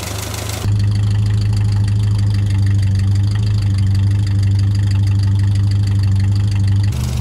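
A GAZ-24 Volga car engine idles on choke, loud and close, holding a steady, even low rumble with a faint knocking texture that starts abruptly and runs almost to the end, with no talking.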